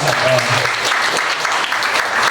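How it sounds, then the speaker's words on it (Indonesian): Audience applause at a school session for Grade XII students, a dense steady wash of clapping that holds for the whole stretch, fairly loud, with a faint voice briefly under it at the start. "Tepuk tangan dulu untuk kita semua."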